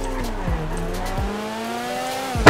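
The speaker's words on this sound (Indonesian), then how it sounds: "Bisa gua ternyata ngedrift." Car tires skidding as a vehicle drifts around a corner in GTA 5, a steady engine drone carrying a few brief squeals and ending in a sharper, louder skid burst.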